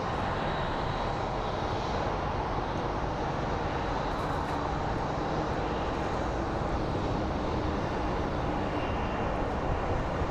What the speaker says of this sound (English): a lot of taxiing action right now while we wait for it to get a little bit busier